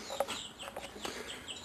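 Chickens cluck in a short run of quick, close calls with a few sharper peaks, with no talking.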